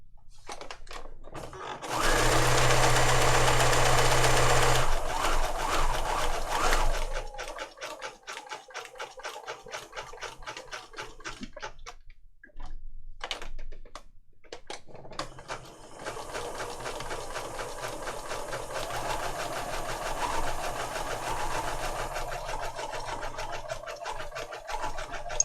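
A sewing machine runs a wide zigzag stitch around a junk journal figure, with a loud fast burst at first, then stopping and starting in short runs before a longer steady whir, close and clear with no talk.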